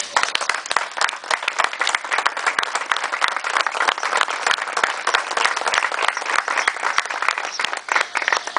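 Audience at a republican conference day breaking into sustained, dense applause of many hands, loud and continuous with a few sharper individual claps throughout.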